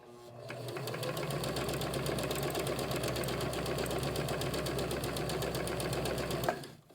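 A Kenmore 385 series sewing machine sews a decorative stitch, running steadily for several seconds with a rapid, even mechanical chatter and whir, close and alone, then stopping abruptly.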